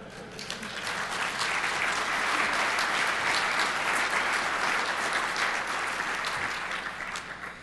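A large audience at a DEFCON hacking conference talk bursts into sustained, dense clapping that swells and stays loud and even for several seconds before tapering slightly, with no speech over it.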